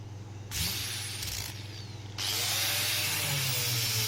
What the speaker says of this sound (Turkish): Tekrar deneyeyim zımparayı.